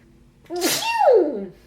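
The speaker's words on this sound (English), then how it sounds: "hold on, I'm gonna sneeze." A single loud sneeze close by, with a sharp intake breath then a forceful burst that trails off.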